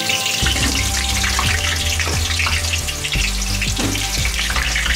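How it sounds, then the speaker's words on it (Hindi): Halved medium-sized potatoes fry in hot oil, giving a loud, steady sizzle and crackle close by with scattered pops, with no voices over it. "तेल गर्म हो चुका है, अब हम इसमें आलू डालते हैं।"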